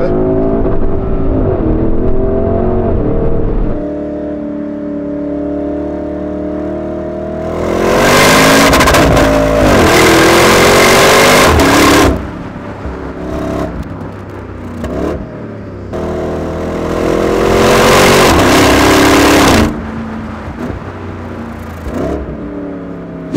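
A Porsche Cayenne Turbo GT accelerates hard, its engine note climbing loud and close through several gears with sharp shifts, a roaring surge, an easing, then another strong pull.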